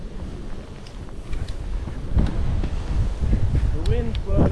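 Gusting wind buffets the microphone on a ski slope at Rabbit Ears Pass, a steady low roar that swells louder partway through, with a voice briefly audible near the end.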